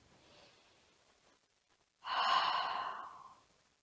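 Slow breathing during a cooling yoga breath practice: a soft, faint inhale, a pause, then one long, audible exhale that fades out, close and alone.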